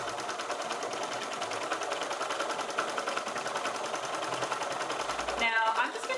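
A sewing machine quilts straight stitch lines across a color block throw, with the presser foot guide setting the line width. It gives a steady, close, rapid stitching whir throughout, with a brief shift in tone near the end.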